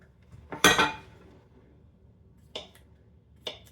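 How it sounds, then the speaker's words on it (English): A knife slicing summer squash on a cutting board: one sharp, clattering chop followed by two lighter, crisp taps about a second apart, close and otherwise quiet. "chop this up into thin slices"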